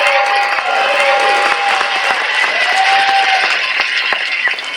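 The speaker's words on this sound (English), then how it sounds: "And everyone, put a big round of applause for Happy Sir." Audience applause at a wedding skit performance, loud continuous clapping and crowd noise filling the whole stretch without letup.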